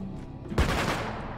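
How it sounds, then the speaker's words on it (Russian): A sudden loud explosive blast in an Unreal Engine survival multiplayer game, in its winter mode, erupts mid-clip, a broad booming burst that lingers and rumbles on with crackling debris, over a low ambient bed. "Взрывается"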